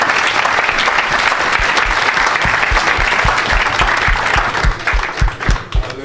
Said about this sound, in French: Est-ce qu'on peut acclamer pour cette révélation?